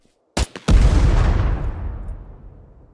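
Several large anti-personnel mines detonate against a wooden palisade wall in the survival game SCUM: two quick sharp cracks, then a heavy booming blast that rolls on and slowly decays into a long rumbling tail, loud and close.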